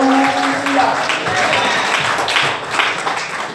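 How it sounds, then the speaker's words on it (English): A congregation claps at an all-night church sermon, with continuous, fairly loud applause running throughout and voices mixed in the crowd noise. "A round of applause."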